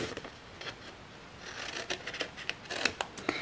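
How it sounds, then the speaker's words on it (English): Scissors snip through paper and card while trimming a shadow box birthday card, a quick series of close, crisp cuts that grows busier and more frequent toward the end, with no talk. "I'm just going to use scissors"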